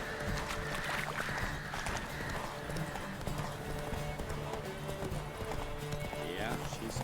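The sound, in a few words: horse galloping hooves in video game The Witcher 3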